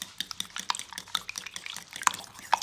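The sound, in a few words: whisking eggs with xanthan gum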